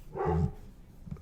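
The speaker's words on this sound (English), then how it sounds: "sorry, that's the dog in the background." A dog barks a few times in the background of an indoor podcast recording, one short burst of barks followed by a fainter yip near the end.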